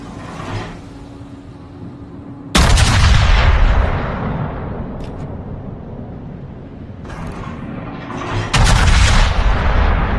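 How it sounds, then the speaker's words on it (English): Naval guns from warships in an online battle game fire two heavy salvos at a target, each a sudden loud boom that rolls off into a long rumbling tail over steady background battle noise. "Stations requesting fire on the designated target."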